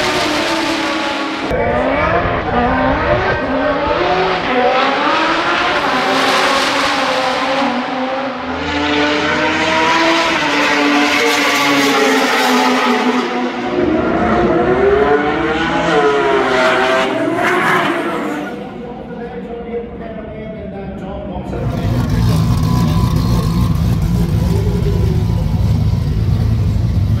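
Race cars at the World Time Attack event roar past at high revs, loud and close. Engines climb and fall through the gears, with tire squeal and a strong surge of engine noise near the end.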